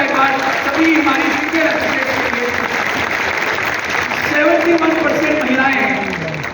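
Steady, dense applause from an audience at a business seminar, with mostly women in the crowd, holding loud and continuous for the whole stretch with a faint voice underneath.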